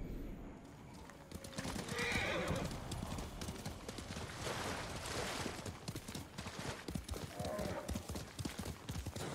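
Horse hooves clip-clopping at a steady trot with neighs and whinnies in the video game Ghost of Tsushima, loud and continuous throughout, with game ambience underneath.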